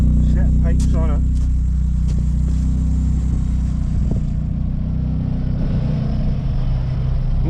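A Mk2 Vauxhall Cavalier GL with a turbocharged C20LET engine and a set of exhaust pipes idles close by with a loud, steady, deep rumble, and voices talk over it.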